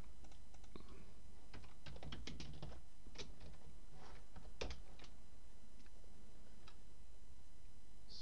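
Someone types code on a computer keyboard: quiet, close clicks come in quick clusters, then thin out into sparse single keystrokes, with no talking over them.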